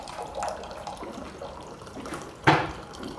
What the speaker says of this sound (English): Give me a little bit of water.